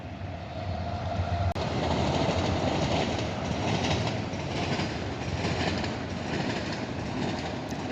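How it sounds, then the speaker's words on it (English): A train rolls past close by, a loud continuous rumble with rhythmic clacking of wheels over the rails and a sharp click near the start. "There's that train."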